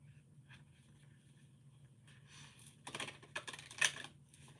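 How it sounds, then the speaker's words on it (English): Playing cards being picked up and shuffled at a table, a faint quiet rustle that builds into a few louder riffling bursts toward the end, close by with no talking. "I'm picking up cards and shuffling them again because it's a habit"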